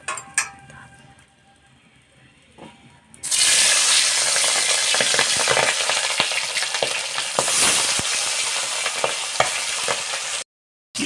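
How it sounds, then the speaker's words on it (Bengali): Pabda fish sizzle loudly as they hit hot oil in a pan after a quiet start, a dense steady frying hiss with occasional clinks of a utensil, then a sudden cutoff near the end. "এবারে একটা একটা করে মাছগুলো ভেজে নেব।"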